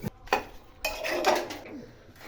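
Beef being mixed with spices and oil in a metal pot, with a few sharp clanks and scrapes of a utensil against the pot and a brief stretch of wet stirring in between.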